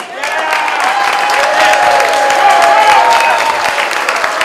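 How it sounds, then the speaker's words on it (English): A large rally crowd applauds Eric Trump, a loud, sustained roar of clapping and cheering with whistles and voices rising over it. "Let's have another round of applause for Eric Trump."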